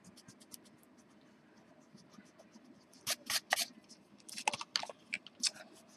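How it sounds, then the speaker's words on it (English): Pencil letters being rubbed out with an eraser on a journal cover, heard as quiet, close scratchy scrubbing strokes that come in short bursts and grow busier toward the end. "Let's see how well this is going to erase for me."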